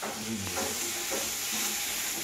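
Vegetables sizzle steadily in hot oil with chili and turmeric powder, a close, continuous crackling fry with a faint stir or two, no talking.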